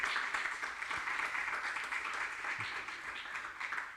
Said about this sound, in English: Indeed, an applause for them.